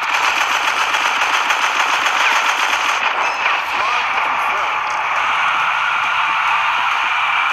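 Rapid automatic gunfire rattles continuously at close range in the shooter game Frag Pro Shooter, loud and dense, briefly easing midway before resuming, with no voices.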